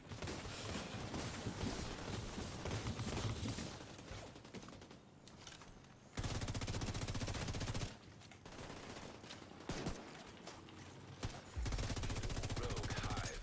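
Dense, loud, continuous automatic gunfire in The Division, with sustained bursts in a noisy firefight that swells and drops over several seconds.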